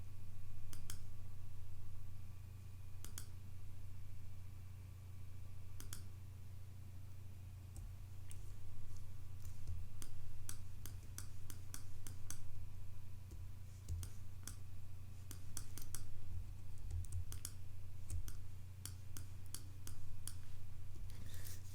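A computer mouse clicks while a layer mask is edited, sharp scattered clicks, sometimes in quick pairs, over a steady low electrical hum with no talking.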